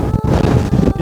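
Strong gusts sweep across the hilltop Thirumalai Murugan temple near Courtallam in Tamil Nadu, pounding the microphone in loud, uneven low rumbles that briefly ease and surge again.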